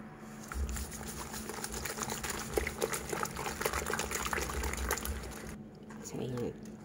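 Water is stirred into watery batter for Arabic tsabab pancake bread, producing close, continuous liquid sloshing and patter for most of the stretch, with a faint voice briefly heard near the end.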